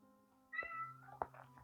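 A single cat meow stands out in the middle of a quiet indoor scene, short and fairly close, with a small bump of sound shortly afterward.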